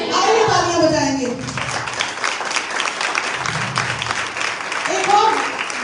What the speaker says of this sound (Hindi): आइए तालियां बजाएंगे।